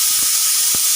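A pressure cooker cooking pigeon pea and potato curry lets off its whistle as a loud, steady rush of hissing steam that fills the whole second.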